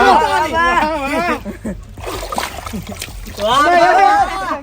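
Water splashes as someone plunges into ice-cold water, mostly buried under loud, excited shouting and laughing voices close by.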